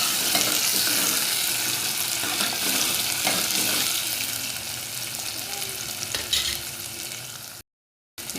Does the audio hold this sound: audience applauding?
no